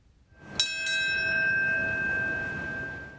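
A single memorial bell strikes in New York City on the 9/11 anniversary, one clear ringing toll that hangs and slowly fades over a few seconds, heard at moderate distance without talk.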